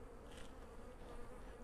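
Dense, continuous buzzing from a mass of honeybees around hive frames, a low, even hum without pause at a moderate distance.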